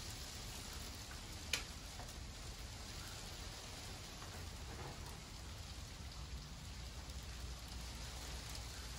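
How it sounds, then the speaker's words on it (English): Hail pattering steadily on the glass panes of a Victorian-style nursery greenhouse, a soft continuous rain-like hiss with a sharp single tick near the start, light rather than heavy. "The hail isn't heavy enough at the moment, but you can still get the picture."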